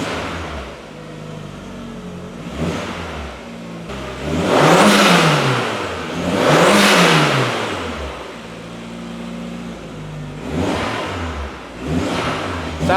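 An Audi engine with a nearly dead battery is started and revved repeatedly, rising and falling in loud, rasping swells with a rough idle between the revs.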